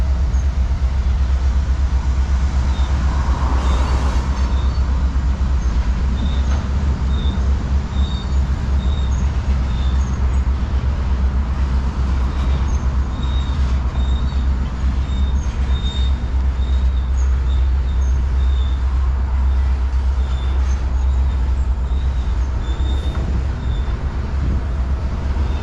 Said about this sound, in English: There goes a freight train.